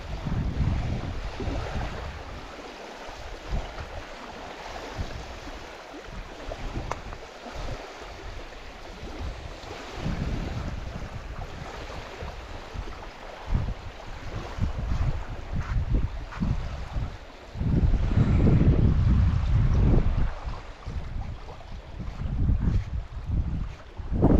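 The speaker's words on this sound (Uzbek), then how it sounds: "Mana shamol turdi." Strong gusting wind buffets the microphone over the wash of choppy lake waves, loud and continuous with a heavier surge near the end.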